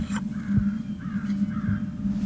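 Wild crow cawing in spring woods during a turkey hunt: three harsh, drawn-out caws at a middling distance, spaced about half a second apart, over a steady low outdoor hum.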